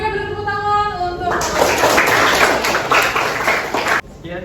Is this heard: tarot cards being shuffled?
no